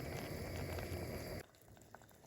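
Vegetable soup with soft boneless meat simmers in a pot, a faint low bubbling and churning that runs for about a second and a half, then falls quieter with a few scattered pops.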